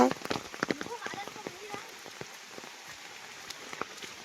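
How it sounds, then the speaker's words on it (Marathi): Heavy rain falling outdoors, a faint steady patter of drops on surfaces with scattered sharper splashes and taps, fairly distant and soft throughout. "हा बघा इकडं खतरनाक पाऊस पडतोय"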